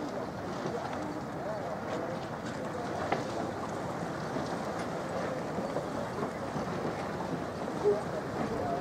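Steady wind rushes and buffets against the microphone outdoors at a sailing race, a continuous broad roar with occasional gusts and no clear speech.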